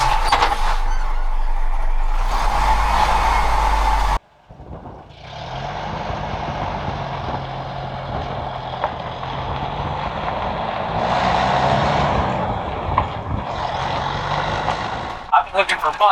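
A classic Jeep with faulty brakes rolls slowly on a short drive to a garage, its engine droning steadily from inside the cab after a brief louder start.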